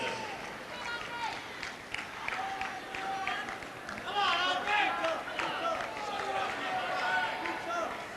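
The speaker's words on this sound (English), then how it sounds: "This huge crowd are trying to urge Agassi on" A large tennis crowd at an Agassi match, with Patrick Rafter in 1997, clapping and calling out in a rising, sustained wash of cheers and shouts under a commentator's voice.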